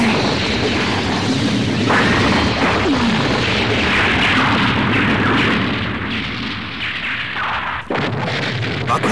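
A massive explosion in a Mobile Suit Gundam anime battle at the space fortress A Baoa Qu, continuous loud roaring blasts and crashing rumble that cut off abruptly near the end.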